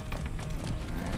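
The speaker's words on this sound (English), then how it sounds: "That's a good horse." Hooves of a ridden horse clatter in a fast rhythmic beat in the video game Far Cry 6, close and loud over game ambience.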